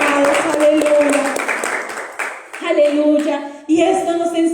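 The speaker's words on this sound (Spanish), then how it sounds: "fuerte para nuestro Dios ese aplauso" A church congregation claps in a burst of applause under a loud singing or speaking voice, and the clapping fades as the voice carries on.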